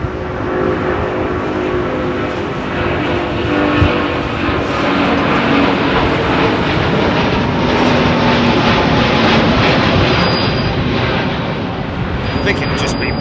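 Airliner jet engines at Heathrow Airport roar in a steady, loud, broadband rush that holds throughout, with occasional faint voices nearby.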